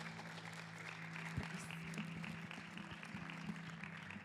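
Church congregation applauding at a Spanish-English worship service, a steady broad wash of clapping at moderate volume with some low murmur and faint voices underneath.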